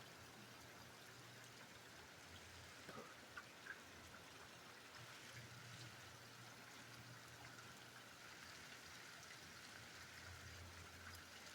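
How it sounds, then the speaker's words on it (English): Heavy rain falls outside a house during a thunderstorm, a faint, continuous hiss of water with a few soft thumps and no voices. "It is heavy rain."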